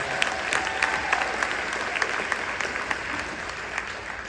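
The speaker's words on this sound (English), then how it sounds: "Give them a round of applause for that." Audience applause at a State of the City address, honoring a family after a street was named for Mrs. Blunt on Overton: steady crowd clapping with sharper individual claps standing out, moderately loud and unbroken.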